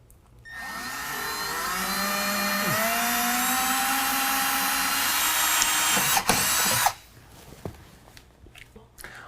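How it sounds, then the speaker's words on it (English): An electric drill fitted with a 9/32 bit bores through metal while AMP Research PowerStep Xtreme running boards are being installed, giving a loud, steady whine for about six seconds before it cuts off abruptly. "9/32 and drill it the rest of the way through."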